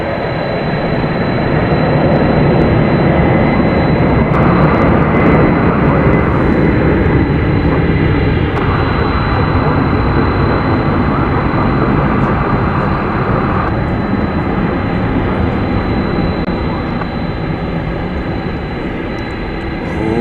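Airliner taking off at DFW Airport, a heavy, sustained roar of jet engines at full power that stays loud and steady for the whole stretch.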